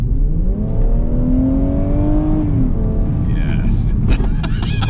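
A BMW F31 340i Touring's exhaust drones and climbs in pitch under hard acceleration out of a corner, then eases off, with people talking over it near the end.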